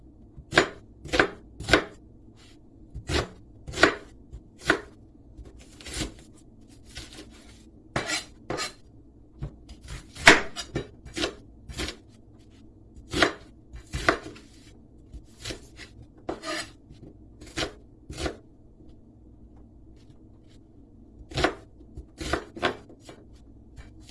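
Onions are chopped on a board with a knife, giving crisp, close knocks that come in quick clusters and single strokes with short pauses between them, and no one talks.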